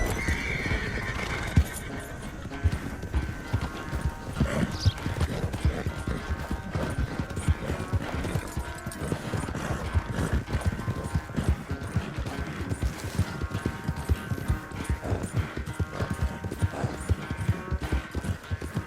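A horse ridden at speed in Red Dead Redemption 2 pounds out steady, rapid hoofbeats close by, with a whinny early on and clinking tack and gear throughout.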